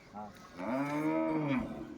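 A single long, deep moo from a Khillar breed bull, close by and fairly loud, rising and sustained for over a second before tapering off.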